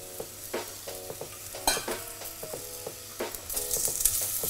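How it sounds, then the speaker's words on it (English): Hot oil sizzling in a pan, likely with celeriac, with a steady hiss, punctuated by sharp clinks and scrapes of a utensil stirring, close by. "You need to hear that sizzle in the pan"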